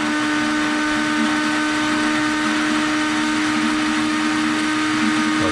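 An Antonov AN-2 biplane's radial engine runs at maximum RPM, a loud, steady whirring drone like a spinning bicycle wheel with a sustained tonal hum throughout.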